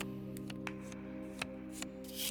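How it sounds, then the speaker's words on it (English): Cards being shuffled in the Cosmic Wheel Sisterhood video game, a run of quick crisp riffling snaps and flicks over a soft steady background hum, fairly faint and without any talking. "How is she shuffling so many cards?"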